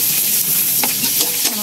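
Ginger sautéing in a pan for a sardine-mackerel soup, a steady close sizzle with stirring scrapes and a few sharper clinks of a spoon against the pan.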